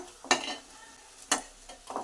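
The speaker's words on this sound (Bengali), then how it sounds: "যে কটা আছে এবার এই কটা ভেজে নেবো" Pointed gourd fritters frying over low heat in a pan, with a faint sizzle under three sharp spatula scrapes and knocks spaced about a second apart.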